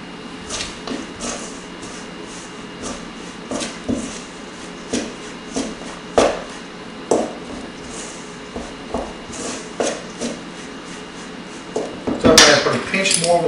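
A spoon scrapes and taps rhythmically against a bowl while mixing pie crust dough, each stroke a soft knock, ending in a brief clatter.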